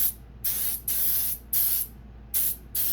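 Mold release agent sprayed onto a mold box for a silicone soft plastic lure mold, in four loud hissing bursts of about half a second each, with short pauses between.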